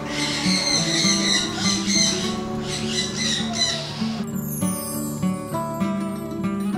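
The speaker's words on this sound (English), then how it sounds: "This one on top of here is pesque parrot." Pesquet's parrot at KL Bird Park calling with repeated harsh squawks amid a dense, noisy aviary background with other birds.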